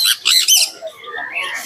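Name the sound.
blue yellow-sided conure squawking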